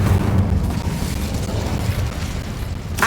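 Incendio fire spell in the Hogwarts Legacy video game: a loud, roaring burst of fiery rumble that holds steady for about three seconds, with a sharp crackle at the end.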